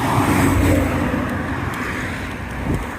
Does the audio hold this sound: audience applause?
no